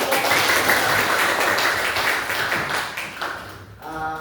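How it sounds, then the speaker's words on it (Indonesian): Schoolchildren in a classroom clap their hands together in a loud, crackling burst that fades out, followed by a voice speaking at the end. "Tepuk tangan."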